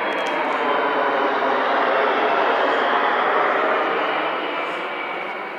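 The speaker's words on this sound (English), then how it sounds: "A rude and beautiful airplane." An airplane passes overhead with a loud, broad, steady roar that holds strong, then slowly fades toward the end.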